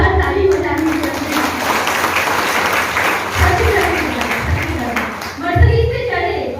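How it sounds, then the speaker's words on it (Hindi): Audience applause at an indoor training session in a Patna venue, a loud continuous wash of many hands clapping for several seconds with a few louder bursts, a voice also heard through it. "जोरदार ताली बजानी चाहिए"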